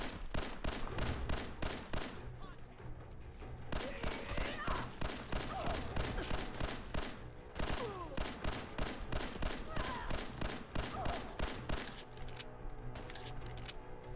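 A semi-automatic Lurker pistol fired at targets in Fallout 4, sharp evenly spaced shots in quick strings with short pauses between them, fairly quiet overall, as someone talks over parts of it.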